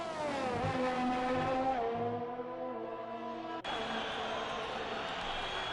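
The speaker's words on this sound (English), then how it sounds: "Ferrari set to cross the line." A Ferrari race car engine roars in a racing video game, its high revving tone climbing and shifting through gears before a sudden change to a harsher, brighter engine note, loud and steady throughout.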